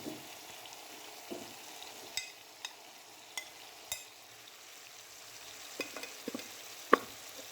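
Cubed potatoes and capsicum go into a hot pan for an aloo shimla mirch sabzi, giving a soft, low sizzle with scattered clinks and stirring knocks from the utensil.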